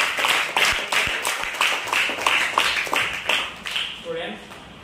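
Classroom clapping for a student during a lesson on adding integers on a number line, a group of sharp claps in a steady rhythm for a few seconds, nearby and fairly loud, fading out near the end.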